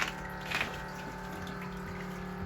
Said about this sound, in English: Apologise for the noise, but got the last two QuadGrows filling up.